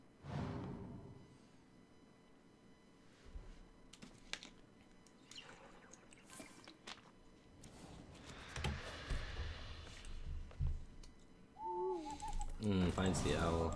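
A card in the Hearthstone game plays a brief owl hoot near the end, amid keyboard clicks and quiet background noise, with a few soft hoots following.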